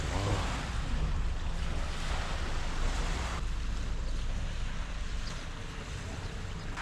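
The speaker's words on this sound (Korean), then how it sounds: "와 여기 뷰에 파도 소리" Ocean waves at Jindu harbor on Yeongheung Island wash in as a loud, continuous surf hiss with wind buffeting the microphone, and no talk over it.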